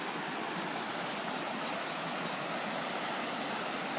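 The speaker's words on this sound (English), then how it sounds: "it is running right down my driveway because it's overflowing this ditch." Rainwater overflowing a ditch on Shofar Mountain rushes down a driveway in a steady, unbroken wash of noise with no voices.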